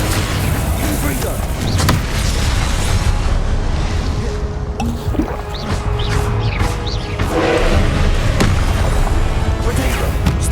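A fire-blasting spell erupting in Hogwarts Legacy, heard as loud booming crashes amid a continuous dense wash of game combat noise, with a voice speaking over it.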